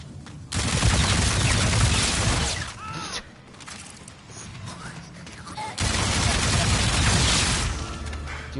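Assault rifle fire in Zombies in Spaceland comes in two long, loud sustained bursts separated by a quieter gap, with a voice speaking between and over the shots.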